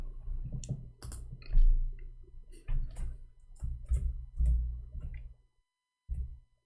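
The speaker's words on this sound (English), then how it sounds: "Oops, I'm typing in English." Keys clatter on a computer keyboard in quick irregular bursts of close, crisp clicks, pausing briefly before a final short flurry.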